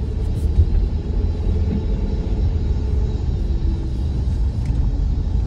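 A Land Rover Discovery 4 with a ZF 8HP automatic gearbox cruises smoothly, giving a steady low interior road rumble and engine hum, even and moderate in level, with no talk.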